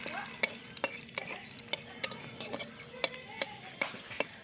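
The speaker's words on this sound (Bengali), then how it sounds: "আমি এর মধ্যে একটা গোটা শুকনো লঙ্কা দিয়ে দিলাম। দুটো তেজপাতা দিয়ে দিলাম।" A whole dried chili and two bay leaves sizzle in hot oil in a pan, a steady soft fry broken by sharp, regular clinks of a utensil stirring, close and alone without talk.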